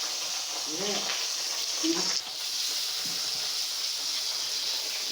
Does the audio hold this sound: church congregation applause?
no